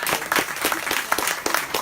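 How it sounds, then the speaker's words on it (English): An audience claps for author Darynda Jones after a book talk, a steady burst of dense, close applause throughout. "we're going to give Darynda a big round of applause for coming on out"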